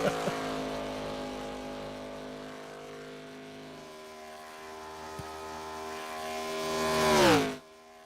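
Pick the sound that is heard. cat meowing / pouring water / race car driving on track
race car driving on track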